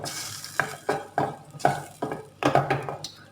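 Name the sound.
stirring pizza topping mixture with tuna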